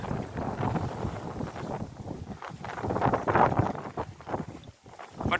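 Wind gusts hit the microphone aboard a sailboat running downwind among islands. The roar is loud and uneven, swelling and easing over several seconds with no speech.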